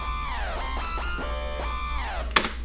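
Gritty dubstep lead synth built in Massive, its pitch bending sharply downward in repeated dives, dense and distorted, ending with a brief bright burst.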